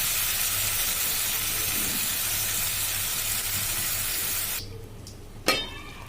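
Water poured into a hot frying pan with a fried flatbread sizzles in a loud, steady hiss that cuts off abruptly as the lid goes on, followed by a single clack.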